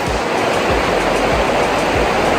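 Water gushing out all over a canyon in Lycia, a loud continuous rushing roar close by, unbroken for the whole stretch, with no voices.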